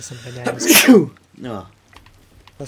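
A person sneezes sharply during voice chat while playing Sea of Thieves, a single loud burst with talking just before and after it.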